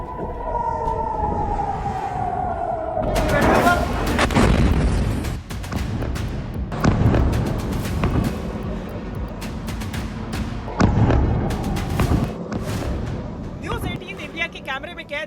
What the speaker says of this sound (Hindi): कैमरे में कैद ईरानी मिसाइलों की ये वीडियो देखिए।